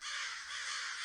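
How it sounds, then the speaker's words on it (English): A flock of crows caws together in one dense, harsh, continuous chorus, loud and close, with no speech. "a noisy, cawing flock of crows landed on his upper branches"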